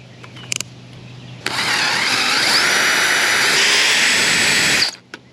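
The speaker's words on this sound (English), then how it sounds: "now I'm going to use a 3/16 drill bit." A 3/16 drill bit bores through a deer skull bone, a loud continuous whining drill run of about three and a half seconds that stops abruptly, preceded by a few faint clicks.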